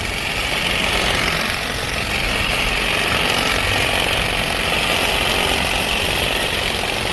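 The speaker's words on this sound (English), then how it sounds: "here goes the new hedge trimmer" A Saker 20V cordless electric hedge trimmer cuts shrubs, its motor and reciprocating blades giving a loud, steady, unbroken buzz close by.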